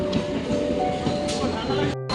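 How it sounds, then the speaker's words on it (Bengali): A train rumbles and rattles nearby with a metallic ring, cut off abruptly at the end; voices come through faintly. "এই যে ট্রেন আসছে"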